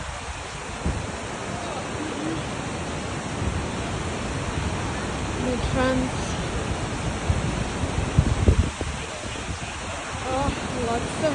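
Bridalveil Fall in Yosemite National Park roars as a steady, broad rush of falling water near the creek, with footsteps and a few brief voices of passing people over it.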